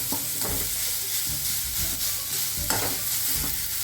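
Grated pumpkin sautéing in ghee crackles with a steady sizzle while a spoon scrapes and stirs it in the pan in irregular strokes, close and fairly soft.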